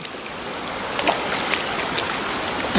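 A forest stream near the Karre Gutta hills by the Bijapur woods flows in a steady, broadband rush of water, close and constant, with a few faint splashes and no voices.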